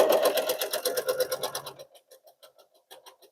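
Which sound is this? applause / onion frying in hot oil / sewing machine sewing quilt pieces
sewing machine sewing quilt pieces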